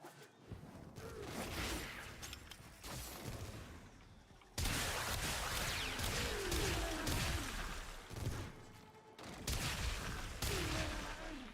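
Rapid bursts of video game gunfire crackle and boom in dense volleys with whooshing effects, pausing briefly around four seconds before resuming loudly and continuously.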